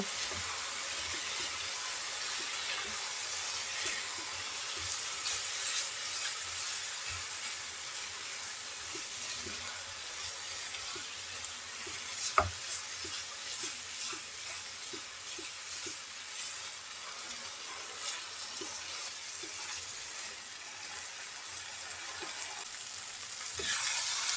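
Boiled potatoes frying with spices in a pan for an egg and potato dish, a continuous soft sizzle with occasional stirring scrapes and one sharp clink midway, no speech.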